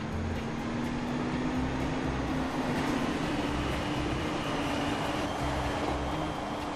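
Long train rolling along in the Transport Fever game, a steady droning rumble with a faint rising tone, constant and moderately loud with no talking.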